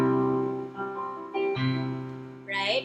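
A major chord rings out as an example of major tonality in a lesson on Baroque music: sustained, close tones with a couple of restruck notes and a brighter burst near the end.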